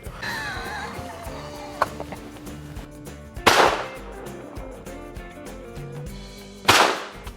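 Two loud shotgun blasts ring out at a clay shooting challenge, a few seconds apart, each followed by a decaying echo, with quiet background sounds between.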